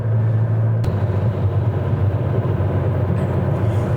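The twin-turbo V8 of a McLaren 650S Spider sports car rumbles steadily at low revs, close and loud, with a brief click near the start.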